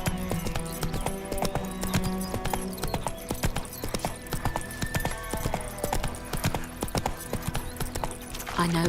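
Roach, Geralt's horse in The Witcher 3, gallops with rapid rhythmic clip-clop hoofbeats under a layer of game music.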